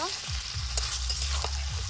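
Potato and taro are stirred and sautéed in spice masala over a village fire by a river, a steady close sizzle broken by faint scrapes over a low rumbling drone.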